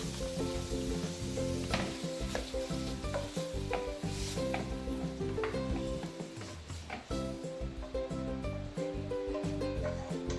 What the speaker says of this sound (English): I'm going to fry the mushroom, the onion, and the garlic together. With a tad bit of butter.